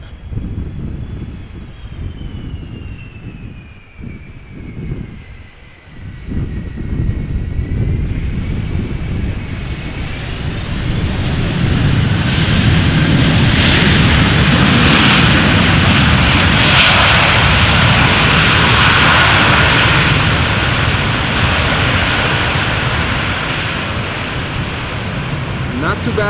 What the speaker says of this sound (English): Airbus A330-300 arriving from Minneapolis.